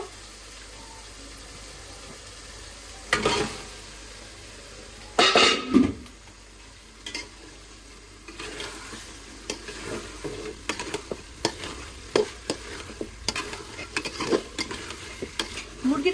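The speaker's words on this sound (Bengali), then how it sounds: "এখন আমি মুরগির মাংসগুলো দিয়ে দিব" Chicken pieces fry in a hot pan as they are stirred, with scattered bursts of scraping and clanking from a utensil against the pan over a low sizzle that grows busier toward the end; no talk.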